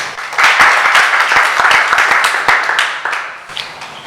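Audience applause at an evening conversation event on intimate partner violence, a dense burst of many hands clapping that swells quickly, holds loud and then tapers off over a few seconds.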